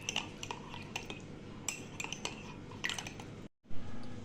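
Beef marinade being mixed with ghee, tasty salt and spices in a bowl for kacchi biryani, with repeated close clinks of a spoon against the dish and soft wet squishing, ending in a brief pause.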